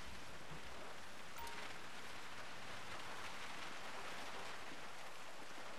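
Steady rainfall in GTA 5 makes a constant broadband hiss that stays level throughout, with one brief soft knock near the start and no talking.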